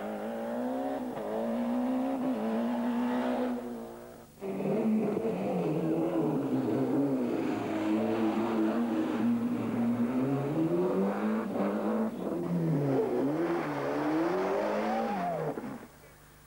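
A Ford rally car spins round on a stage of the 1994 Monte Carlo Rally at Saint-Jean-en-Royans, its engine loud and close, revving and wavering in pitch almost continuously with a brief dip in the middle, no talk over it.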